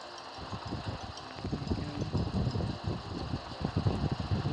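A tractor engine runs in the Farming Simulator video game, a steady low mechanical drone with a faint whirring hum, constant and moderately loud throughout with no speech.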